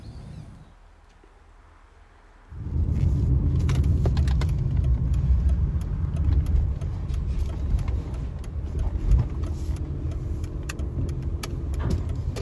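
After a quiet moment a car engine starts up and the car, loaded with timber, drives into a boatyard, rumbling steadily with small clicks and rattles from inside the cabin.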